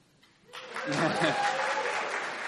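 Audience applause and cheering at a live show swell in after a quiet half-second and hold steady and loud to the end, a dense wash of clapping with voices mixed in.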